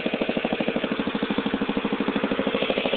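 A lawn mower engine runs steadily at a fast even idle, with a loud close rhythmic chugging pulse that holds unbroken throughout and has no voices over it.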